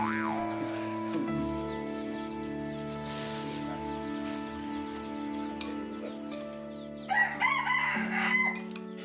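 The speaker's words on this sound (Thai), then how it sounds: "ตอนเย็นแล้วนะครับ ไก่ยังขันครับ" A domestic rooster crows in the evening at a rural home, a drawn-out call rising over a steady background hum, with a few sharper clucks and noises near the end.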